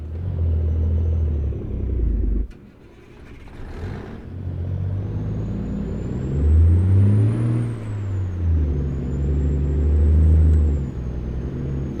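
A big rig in American Truck Simulator grinds along in first gear, its engine a low droning rumble that rises and falls with the throttle, interrupted by a short pause and a hiss-like air release, steady and close.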